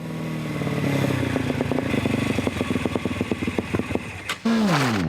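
Formula SAE student race car engine during a noise test at a windy Werribee competition in 2005: close, loud pulsing exhaust that builds, then a sharp rising rev sweep near the end.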